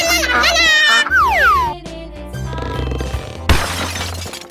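A loud shattering crash with breaking, glassy debris rings out in a 3D animal slide video game, layered with cartoonish sliding whoops and busy game effects throughout.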